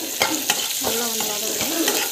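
Dried red chillies sautéing in a pan, a constant bright sizzle punctuated by several sharp spatula scrapes and taps at irregular intervals, close and fairly loud, without speech.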